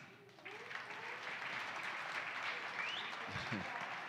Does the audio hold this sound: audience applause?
yes